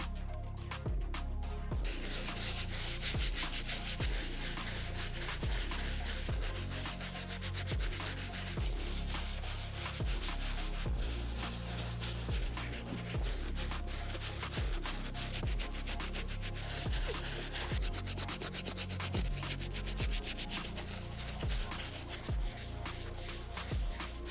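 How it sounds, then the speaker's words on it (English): A soft bristle brush scrubs suede Air Jordan 4 sneakers, close continuous rhythmic scratching strokes at a steady moderate level, with no talk. "So we're gonna start with the soft bristle brush for the uppers and the insides, as well as the midsoles."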